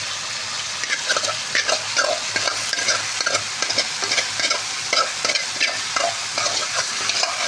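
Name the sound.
fish head and tail sautéing in a pan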